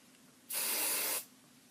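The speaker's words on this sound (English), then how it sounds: "I'm going to go ahead and spray these with hairspray." A single short burst of hairspray hisses for under a second, close and loud, against near silence.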